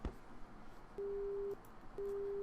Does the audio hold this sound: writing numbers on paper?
no